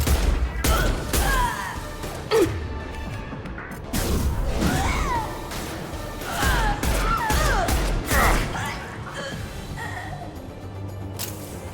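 Gunfire and impacts in the sci-fi shooter Mass Effect Legendary Edition, irregular bursts of shots, crashes and whooshes close and loud, with clusters of rapid fire separated by short lulls and faint game voices.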